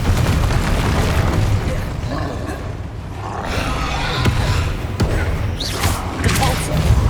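Confringo spell blast from the PS5 game Hogwarts Legacy: a dense, loud booming explosion with rumbling low end, rolling through the whole stretch amid other spell impacts and thuds.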